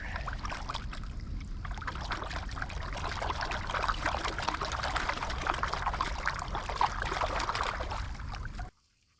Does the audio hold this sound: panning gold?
yes